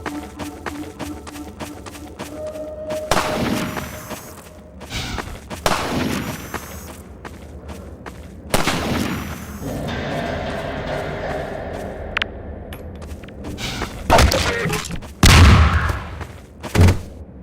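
Gunfire from snipers and Combine soldiers in Half-Life 2, scattered loud shots and short bursts with crashes of breakable objects shattering nearby, irregular and punchy amid combat noise.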